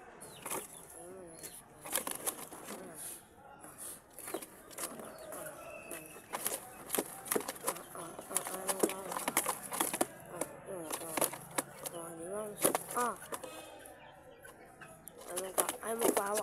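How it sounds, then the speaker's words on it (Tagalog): Pigeons shuffle and flap their wings inside a cardboard box, making irregular bursts of wingbeats and scraping, while someone talks over them throughout. "Nasa karton yung mga kalapatids."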